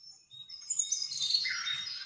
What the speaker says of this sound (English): That's the sound of the pepper bird.